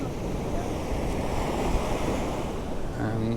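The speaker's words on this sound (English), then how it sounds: "It's something I can just sit and watch these waves pummeling the rocks." Sea waves crash and surge against rocks on the shore at Cala Ratjada, Mallorca, a steady loud roar of surf with wind noise buffeting the microphone throughout.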